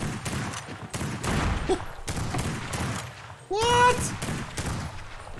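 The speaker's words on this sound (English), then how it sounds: "He is shooting?" Gunfire in the horror video game Lovecraft's Untold Stories, in a coastal township: a steady run of loud shots cracks throughout, with a voice briefly speaking over it.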